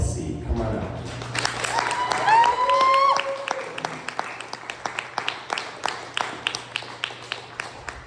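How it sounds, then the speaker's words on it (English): Scattered applause from a pub poetry-night crowd greeting poet Kelsey, starting fuller then thinning into sparse individual claps, with a brief ringing feedback tone and some murmured talk in the room. "please give me the biggest round of applause for Kelsey"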